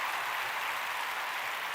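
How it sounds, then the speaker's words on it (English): Applause on a live television show, with a studio audience clapping for a woman in a steady, even wash of many hands that fills the moment without letup. "give her a round of applause"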